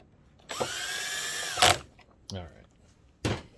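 A power drill drives screws into the casing of a JVC DLA-RS57U LCoS projector, one loud sustained whir of about a second followed by two short bursts, close and alone.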